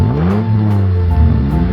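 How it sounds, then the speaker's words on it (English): An engine revs steadily on a crane truck in a kids' cartoon, a loud, continuous droning hum that rises and falls slightly, heard close and alone with no talking. "The crane truck lifts the truck gently out of the sand."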